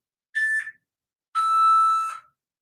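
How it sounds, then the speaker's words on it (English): A workout interval timer gives two electronic tones, a short beep followed by a longer sustained one after a pause, clear against silence. "I think you were waiting for the beep."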